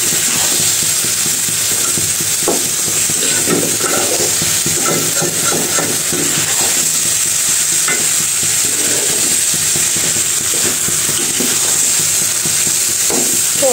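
Mixed vegetable labra is stirred in a pan, giving a loud, continuous sizzle with scraping spatula strokes throughout and no talking.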